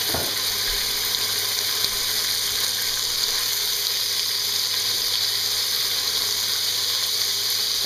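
Beef pieces fry and sizzle in a pot for stew, a steady, dense hiss of hot fat and searing meat that holds throughout at moderate loudness, alone with no talk.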